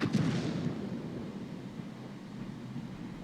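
One heavy artillery blast from the FV304 self-propelled gun in a tank video game booms at the start, followed by a long low rumbling decay that fades slowly.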